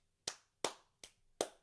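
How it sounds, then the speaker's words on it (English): Four sharp hand claps at a steady, slightly uneven pace, crisp and close, each with a short ringing decay, alone with no talk. "Let me give you a clap."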